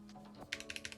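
A short burst of about five quick keystrokes on an ID80 Crystal Edition mechanical keyboard with ABS keycaps, close and fairly quiet, with no voices.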